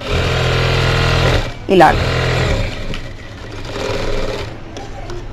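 A sewing machine runs in a loud steady hum while stitching a round collar neck dress, pausing briefly midway as someone speaks over the work.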